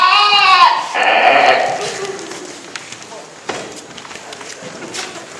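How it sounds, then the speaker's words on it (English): A billy goat at the Weird Weekend 2013 event lets out a loud, wavering bleat at the start, followed by quieter background talk and a few footstep-like knocks. "Thank you very much, Barney the Billy Goat"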